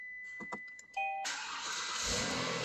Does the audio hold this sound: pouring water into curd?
no